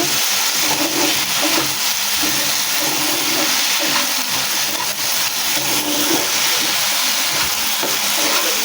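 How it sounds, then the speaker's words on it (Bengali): Potatoes with a pinch of sugar, nearly done, fry in a pan as a dense, even sizzle that holds steady and close throughout, with no talking. "এখানে আমার আলুটা প্রায় ভাজা হয়ে গিয়েছে"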